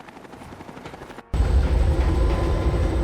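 Vertibird aircraft in the video game Fallout 3, its rotor roar cutting in abruptly after a brief quiet gap and then holding steady, loud and close, with a dense low thrum.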